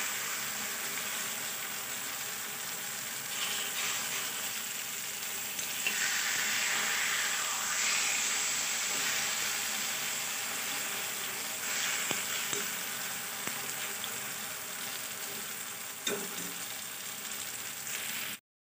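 Egg bhujiya, scrambled egg cooking in a pan, sizzles steadily for a long stretch. A spatula stirs now and then, and the frying stays even and fairly close, with no talking.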